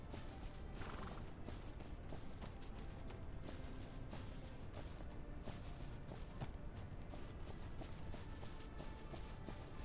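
Horses in the video game The Legend of Khiimori, with a whinny near the start and a steady patter of hooves clip-clopping along throughout, even and moderately loud over a continuous outdoor ambience.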